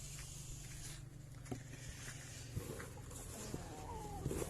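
Soft chicken clucks and scattered footsteps over a steady low hum, with occasional faint bird calls in the background, while bran is mixed into semi-fermented chicken feed.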